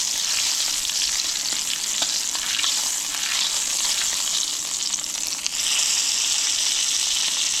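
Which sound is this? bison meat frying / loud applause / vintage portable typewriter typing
bison meat frying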